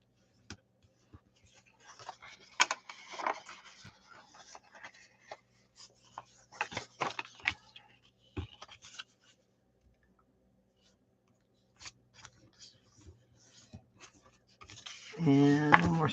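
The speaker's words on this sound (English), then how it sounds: "I'm simply going along and I'm folding on the score lines" Designer series paper is folded along score lines for a gift box, with soft close rubbing and creasing scrapes in scattered bursts, quiet gaps between, and a louder rustle at the end.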